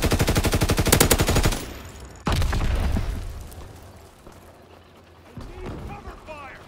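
Rapid machine-gun bursts from a Call of Duty WWII battle ring out loud and close, then a sharp blast and fading rumble, with shouted voices of soldiers mixed in.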